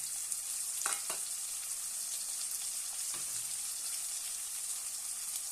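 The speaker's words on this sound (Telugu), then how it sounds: "ఒక టమాటా తీసుకొని ముక్కలుగా కోసి వేయించుకోండి" Tomato pieces frying with onions and curry leaves in a pan, a faint steady hiss with a couple of soft spoon taps, quiet and without voices.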